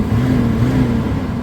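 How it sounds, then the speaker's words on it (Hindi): A safari vehicle rumbling past at close range on a Masai Mara game drive, a loud, steady low engine drone that holds for a moment without other sounds. "मेरे पास से गाड़ी गई।"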